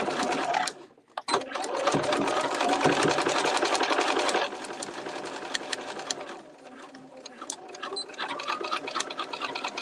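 A sewing machine runs steadily in a live sew-along, stitching a project with a continuous whirring drone that dips briefly near the start, then carries on with a slight lull and shift in tone partway through.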